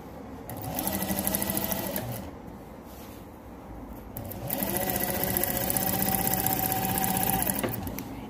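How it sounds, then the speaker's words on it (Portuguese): A sewing machine stitches bias binding onto a quilt in two steady runs of fast, even motor whirring and needle clatter, with a short slower pause between them. "Agora eu vou finalizar a costura do ponto aonde eu parei"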